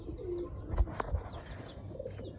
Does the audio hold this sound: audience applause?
no